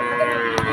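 Cattle low at a rural cattle market in Betaga where Friesian bulls and calves are traded, a single steady moo held close and loud for the whole moment with no talk over it.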